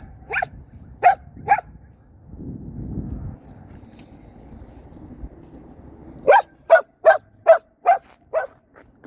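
A Caucasian Ovcharka barks at a dog park, with three sharp barks early on and then a close, loud run of about eight evenly spaced barks after a stretch of muffled rustling and footsteps.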